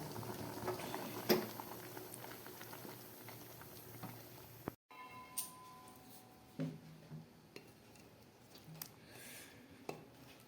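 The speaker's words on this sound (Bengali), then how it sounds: "আমার দুধ পুলিটা ফুটে উঠেছে" Dudh puli, milk rice dumplings, simmer in milk with a faint, soft bubbling, broken by a few light clinks of a pot or utensil.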